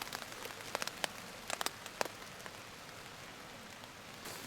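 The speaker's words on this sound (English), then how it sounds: "I'm just glad to hear that rain. Just listen to it hitting the top of this." Rain patters on the fabric roof of a solo camping tent, scattered distinct drops tapping close overhead over a soft continuous hiss, fairly quiet with no voices.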